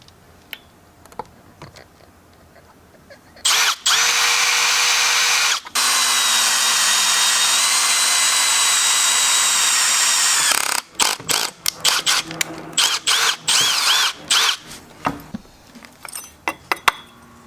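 A power drill bores holes through metal to mount a sway bar bracket on a Z car, running in two long steady bursts with a pitch dip, then short choppy pulses and clatter of handling.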